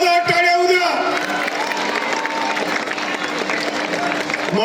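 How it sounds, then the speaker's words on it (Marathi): A large crowd at the Dhule Marathon breaks into loud, sustained applause mixed with cheering and whoops. A voice carries briefly at the start before the clapping fills in. "जोरदार टाळ्या उद्या."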